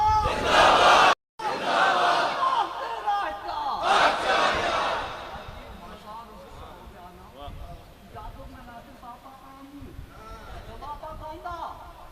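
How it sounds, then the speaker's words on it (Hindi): A crowd in a mosque, at a Jamia Masjid sermon in Kasur, shouting back in unison to a takbir call, with loud roaring group responses in bursts and a speaker's voice over the crowd. "तकबीर मोहम्मद मुस्तफा"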